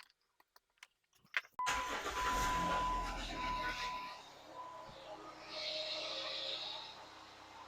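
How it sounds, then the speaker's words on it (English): A Jeep Wrangler JK 3.8L V6 cranks after a few clicks, then catches and settles into a steady, fairly loud idle with a faint whine above the engine rumble. "We'll start the Jeep, and then we'll do the same thing, but with the power steering being run by the engine"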